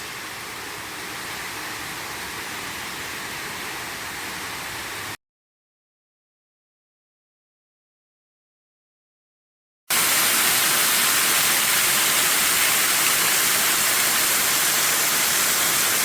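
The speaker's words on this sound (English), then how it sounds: "we can hear rushing water up ahead, which indicates either a rapids or a waterfall" Rushing water from a waterfall or rapids in La Salle Canyon at Starved Rock State Park gives a steady broadband roar, broken by a stretch of silence and returning louder and closer.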